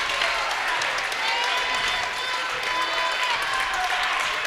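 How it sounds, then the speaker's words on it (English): Crowd applause fills a high school girls basketball gym in Cadillac as the home Vikings close out their win over Gaylord, steady clapping holding near and loud throughout with faint talk mixed in. "The crowd gives an appreciative applause."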